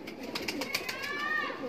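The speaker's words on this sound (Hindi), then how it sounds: "ये वाली कबूतरी है टैडी, मादी भी बहुत आउट क्लास और शानदार कबूतरी है" Teddy pigeons give a soft, low cooing close by that is faint and brief, with a few gentle rolling notes and no voices over it.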